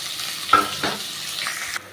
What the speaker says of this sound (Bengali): দেখুন আমার তেলটা অতিরিক্ত গরম হয়ে গেছে, সেই জন্য তাড়াতাড়ি পেঁয়াজটা আমি এর মধ্যে ঢেলে দিলাম।